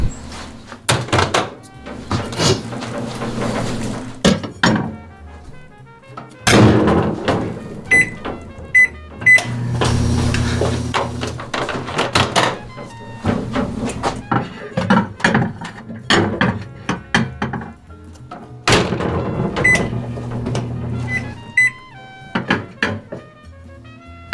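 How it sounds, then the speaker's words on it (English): A microwave oven heating minced onions, with its door thunking, buttons beeping and mechanical clunks and ratcheting in irregular bursts, close by and fairly loud, with brief talk in between. "Now go microwave that for 10 minutes."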